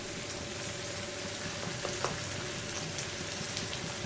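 Paneer cubes frying in a pan give a steady, even sizzle with faint crackles, close and continuous, no voices.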